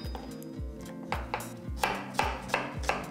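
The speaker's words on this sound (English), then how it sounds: "start by dicing up your shallots." A knife dicing shallots on a cutting board, with a steady series of sharp chopping taps that grow louder and more regular toward the end, close and alone.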